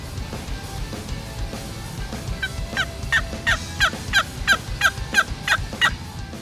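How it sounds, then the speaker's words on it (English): A wild turkey gobbles repeatedly in a rapid rattling series from a moderate distance, over low outdoor rumble and background noise. "One of the turkeys gobbled back at us"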